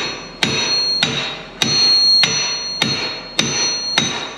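A hammer drives a drawbar pin out of a Massey Ferguson 8670 tractor, seven sharp metallic blows landing at a steady rhythm about half a second apart, each with a short ringing tail.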